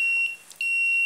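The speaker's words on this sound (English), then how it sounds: "this one is an automatic buzzer" An automatic buzzer driven by a 555 timer circuit gives a steady, high electronic tone that drops out briefly in the middle and then resumes, clear and close with no voices.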